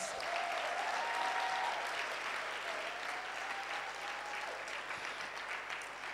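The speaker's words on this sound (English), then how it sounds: "Can we give them a round of applause?" Sustained clapping from a panel discussion audience, steady and fairly loud, tapering slightly toward the end, with a faint tone running underneath.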